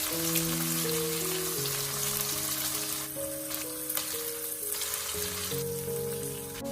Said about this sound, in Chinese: 喜欢吃辣的可以加一点辣椒，然后快速翻炒，把辣椒炒香